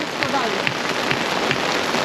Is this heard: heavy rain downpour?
yes